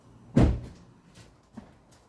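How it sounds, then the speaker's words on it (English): A car door on an Audi B8 A4 is unlatched and swung open, giving one dull close thunk followed by faint softer clicks. "I'm just gonna open the door to the car"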